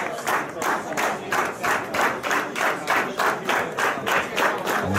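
A wrestling crowd claps in a steady rhythmic unison beat, about two claps per second, loud and sustained with cheering mixed into the pounding pattern.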